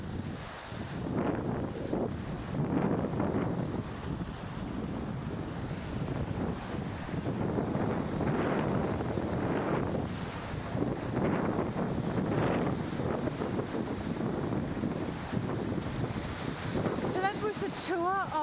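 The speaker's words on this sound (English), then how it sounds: "And here we are at the Baltic Sea." Waves and wind on the Baltic Sea shore, a continuous rushing wash with repeated surges and microphone wind buffeting throughout, ending with a few faint bird-like chirps.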